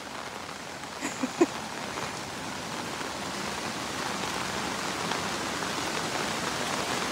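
A Konkan village stream swollen with floodwater rushes steadily, a dense broadband roar of flowing water that runs throughout with a few faint knocks early on.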